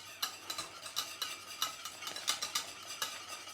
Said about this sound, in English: So stir that through there,